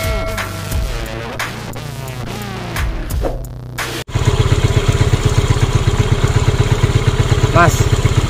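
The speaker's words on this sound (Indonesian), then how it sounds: "Nah sekarang motor udah nyala, udah normal" A Yamaha Mio scooter engine idles steadily after an initial stretch of clattering, then runs with a continuous, even hum close by.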